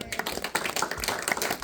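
Congregation applauding during a Spanish-language church sermon, a dense spread of claps and taps at moderate level for under two seconds, with no voice on top.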